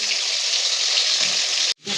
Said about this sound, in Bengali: এবার একবারে তো আর এতগুলো মাছ ভাজা যাবে না, কিছুটা থেকে গেল, কিছুটা ভাজি